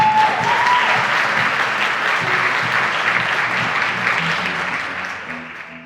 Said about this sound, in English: Let's give a huge round of applause to our teen contestants